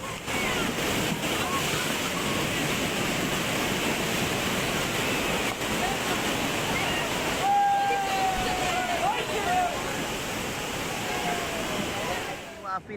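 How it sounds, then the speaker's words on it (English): A tidal bore surges up the Ganges River in India, making a steady, loud roar of rushing waves and churning water that continues unbroken throughout. "a tidal surge generated strong waves that rapidly flooded the riverside area in India."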